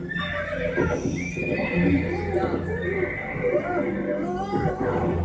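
A horse whinnies loudly several times, with hoof clatter and people's voices around it, all fairly close.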